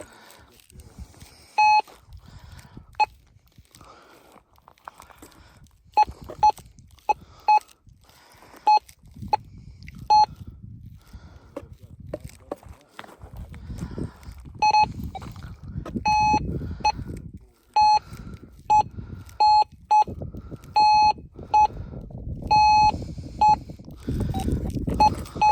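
Metal detectors inside an abandoned Arizona gold mine giving repeated sharp electronic beeps over metal casings, irregular bursts of tones over low rumbling handling noise.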